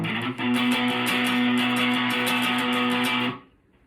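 Electric guitar power chord in the style of a song, one distorted chord held and ringing steadily for about three seconds before being cut off, loud and alone.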